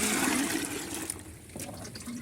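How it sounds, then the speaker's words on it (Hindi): Plain water gushes steadily into a bucket holding plant fertilizer, a close, broad splashing pour that eases slightly midway and then continues, with no voices. "और अब ये प्लेन पानी डाल दें"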